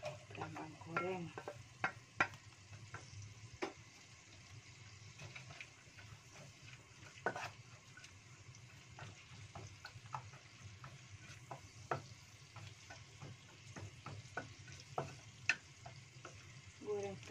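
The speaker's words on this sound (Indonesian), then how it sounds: "goreng bawangnya dulu, gampang goreng perambangnya dulu guys ya, gampang goreng." Shallots frying in oil for Central Javanese lontong galak, a steady close sizzle with scattered stirring clicks and scrapes throughout, no talk.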